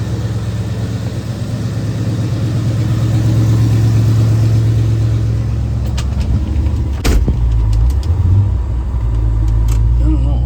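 A 1970 Ford Mustang fastback's engine hums steadily at low pitch while driving, with a sharp click and some brief knocks partway through; the drone stays loud and constant.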